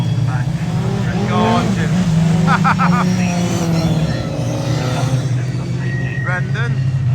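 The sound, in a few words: race cars on the warm-up lap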